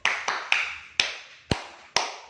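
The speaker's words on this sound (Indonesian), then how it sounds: "Clap spiritnya yaitu dengan tepuk semangatnya 3, 1, 2." A group performs a rhythmic spirit clap in a 3-1-2 pattern, six sharp, close claps in uneven groupings, each ringing briefly before the next.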